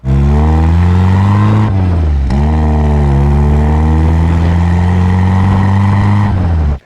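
A 1971 MG Midget with its 1275cc engine gives a loud, continuous raspy exhaust note up close, steady with a brief dip and rise in revs partway through, with no talk over it.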